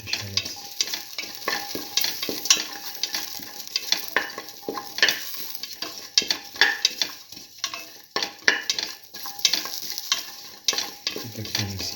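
Shallots sizzle steadily in a hot pan while a utensil repeatedly stirs and scrapes against the metal, with clinks and shuffling over the constant frying hiss.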